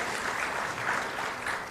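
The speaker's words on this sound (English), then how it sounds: "give a big round of applause for the students for making this very successful event" Steady applause from an audience at a university design week event, a dense wash of clapping hands that holds at an even level throughout.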